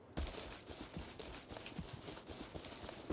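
Horse hooves clip-clopping in a video game, an uneven run of soft, quick hoof thuds under a constant noisy background, faint and mid-distance.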